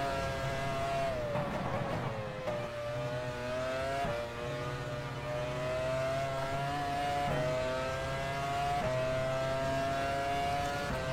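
A car engine revs steadily through a lap, holding a strong droning pitch that rises and dips with shifts in throttle, heard alone without talk.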